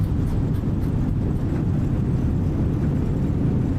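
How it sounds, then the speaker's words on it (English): Airliner thrust reversers roar during landing rollout in a flight simulator, a dense, loud, low rumble holding steady throughout with no talk. "Reverser is on, auto brake green."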